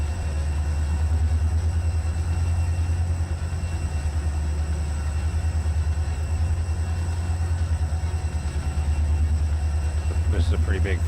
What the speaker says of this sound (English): This is a pretty big freaking train.